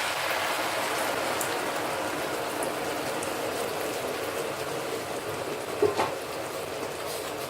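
Chicken gravy with sautéed onions simmers steadily in a pot for a Kerala-style nadan chicken curry, a soft continuous bubbling hiss with a brief louder pop near the end and no talking.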